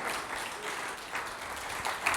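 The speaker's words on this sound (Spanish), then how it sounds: "Démosle un aplauso al Señor Jesús." A church congregation applauds during a worship service, a brief continuous patter of clapping heard from a moderate distance, fairly quiet, with a faint voice briefly underneath.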